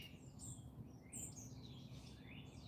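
Bird chirping and tweeting in short high bursts, fairly faint over a low rumbling background, with no one talking.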